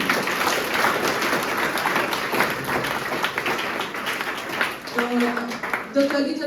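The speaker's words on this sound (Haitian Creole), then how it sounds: "À nouveau, je vous demande d'applaudir le panel." Audience at an alumni-organised conference day claps for a panel, a moderate spatter of applause across the room, fading near the end as a voice starts speaking over it.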